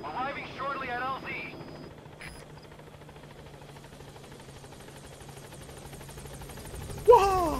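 A helicopter arrives at a landing zone in Metal Gear Solid 5: The Phantom Pain. A steady low rotor drone runs throughout under brief voices at the start, and a sharper sound cuts in at the end.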